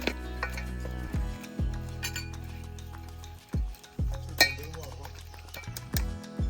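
Beef pieces being mixed into a marinade in a bowl for Kerala-style beef mandi, with repeated clinks and scrapes of a utensil against the bowl under continuous talking.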